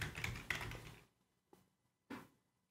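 Sharp clicks from a computer keyboard: a quick burst of typing, then a few separate single key presses, including the Enter key, spaced apart in a quiet room.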